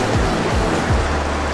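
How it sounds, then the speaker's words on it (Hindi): Strong water rushes through a stream inside Robber's Cave in Dehradun, Uttarakhand, a loud, close, continuous roar with low thumps underneath. "पानी का प्रेशर तो बहुत तेज है यहाँ पर"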